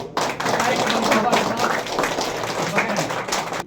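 An audience claps at a school for mentally disabled children during a birthday celebration for actor Chiranjeevi, a dense, steady patter of many hands held for a few seconds while someone speaks over it.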